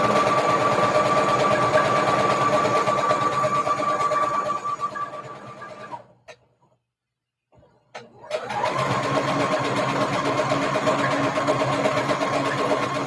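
A sewing machine stitches the channel of a ribbon-trim tutu, a steady close mechanical whirring that stops for about two seconds midway and then picks back up at the same pace.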